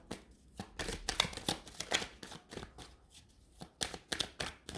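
Oracle cards are handled and tumble down in a rapid flurry of close, crisp slaps and flutters, coming in irregular bursts with brief pauses between them.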